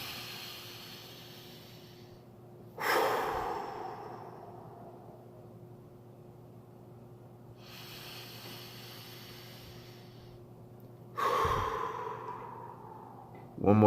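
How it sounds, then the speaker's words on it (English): Slow deep breaths during a calm stress-relief exercise, three long airy exhales about four seconds apart, each a strong hissing sigh that fades away, close and alone over quiet room hum. "So I want you to take a few deep breaths."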